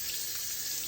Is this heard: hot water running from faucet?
yes